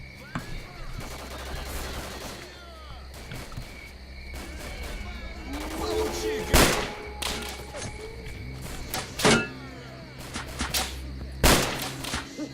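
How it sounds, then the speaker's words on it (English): Enemies open fire in S.T.A.L.K.E.R., scattered sharp gunshots cracking at irregular intervals, some close and loud, over a background of crickets and ambient hum, with a voice talking in places. "now they've opened fire and I haven't taken cover"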